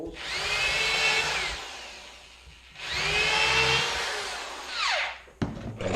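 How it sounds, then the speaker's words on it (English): A power drill with a 1/8 inch bit pre-drills holes in hive wood, giving two sustained high whines as the bit bores in, then a short winding-down burst and a clunk as the tool is set down. "I pre-drill the other 2 holes."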